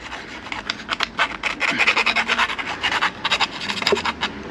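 A file deburrs the cut edge of a bike fork's steerer tube, giving a rhythmic series of close, gritty rasping strokes in quick succession.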